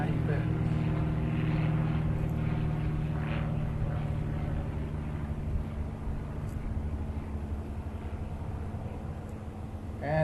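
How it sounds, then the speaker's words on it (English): A 1946 Cessna 140 light training plane passes overhead during a flyover of classic aircraft, its engine a steady moderate drone with low harmonic hum, fairly distant, under someone narrating. "is a 1946 Cessna 140, which was also Cessna's training aircraft in the late 40s and early 1950s"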